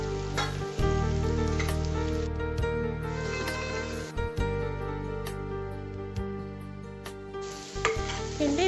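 Carrot, snake gourd and cauliflower frying in a pan for veg kurma, stirred now and then: steady close sizzle with a low hum underneath and a few sharp scraping stir strokes, with no talking.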